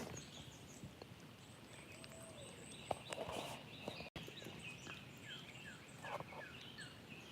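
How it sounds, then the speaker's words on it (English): Faint birds chirp and call at a distance in a quiet outdoor setting, with scattered short tweets and a few soft knocks or steps. "you know, all types of birds. I heard that out."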